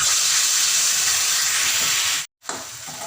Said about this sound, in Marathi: तेल गरम झालेले आहे आणि हे भरीत टाकून द्यायचं त्यामध्ये